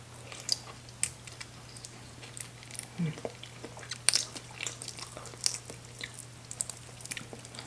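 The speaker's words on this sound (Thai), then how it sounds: "มีการแทะนี่เด้อพี่น้องนะ" Someone gnaws on stewed pig feet cooked in sesame oil, with close, faint bites, crunches and wet chewing scattered irregularly over a quiet background hum.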